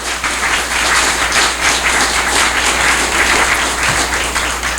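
A room full of people at a police chief's swearing-in ceremony applaud steadily and loudly, a sustained wash of clapping with no talking over it.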